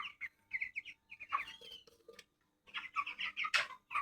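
Chickens on a poultry farm cluck in short repeated bursts and quick calls, fairly faint, with a brief pause before the clucking resumes.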